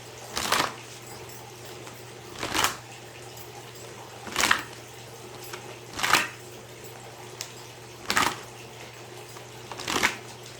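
Tarot cards being shuffled in bursts, six quick riffling flurries spaced about two seconds apart, close and fairly loud over a low steady hum, with no talking.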